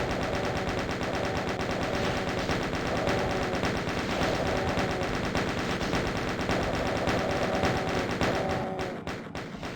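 Rapid, sustained automatic gunfire in a custom Doom map, a dense stream of shots for most of the stretch before thinning and stopping near the end, loud and without speech.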